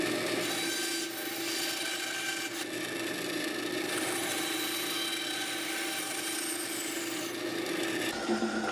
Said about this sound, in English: So now we'll cut this out on the bandsaw.